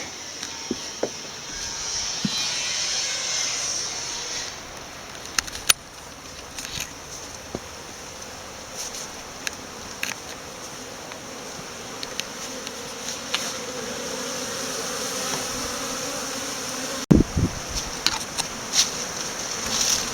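Honeybees buzzing steadily during a cleansing flight, a dense continuous hum of many insects around the hive with a few louder passes close by.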